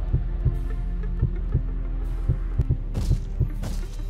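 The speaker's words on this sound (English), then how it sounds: "No, not the heartbeat game." Heartbeat minigame in the Roblox horror game DOORS: a steady, loud thumping heartbeat of about a dozen beats over a constant low hum, with a brief brighter noise burst near the end.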